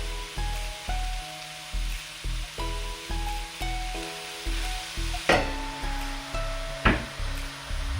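Onions sprinkled with salt cook in a pan for a simple chicken curry, a soft hissing sizzle running beneath louder rhythmic background music, with a couple of sharp utensil knocks.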